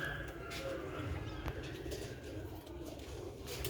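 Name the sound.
Ali wale pigeons cooing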